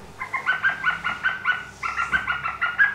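A series of quick, bright whistled bird calls, repeated in two short bursts, sounding like a blackbird imitated on a small whistle.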